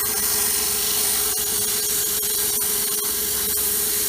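A wood lathe spins a pen blank at top speed with a steady high-pitched whir and a hissing, scraping cut, loud and continuous, broken by faint ticks.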